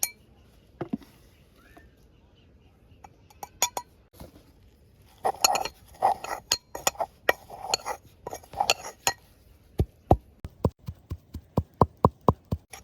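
Chili powder being mixed by hand into fish in a metal dish in a Gujarati village kitchen, with scattered clinks and taps that turn into a quick run of sharp, close knocks, and soft speech in the background.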